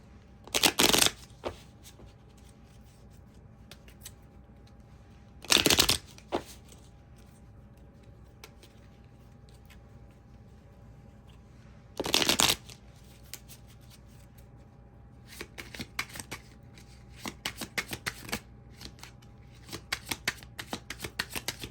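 Tarot cards being shuffled by hand in three short, crisp riffling bursts spaced several seconds apart, followed by lighter scattered taps and card handling, close and clear against a quiet room.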